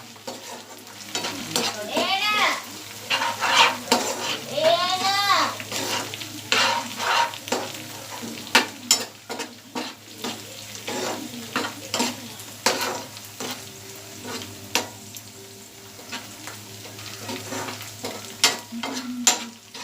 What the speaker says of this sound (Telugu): ఇప్పుడు మనం కొంచెం అల్లం వెల్లుల్లి పేస్ట్ వేసుకోవాలి.